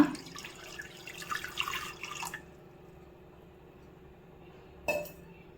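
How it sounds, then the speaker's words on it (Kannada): Water splashes and gurgles into a metal pressure cooker for about two seconds, then stops; a quiet hum follows before a short clink. "ಒಂದು 2 ಗ್ಲಾಸಷ್ಟು ನೀರು ಹಾಕ್ಕೊಳ್ಳೋಣ."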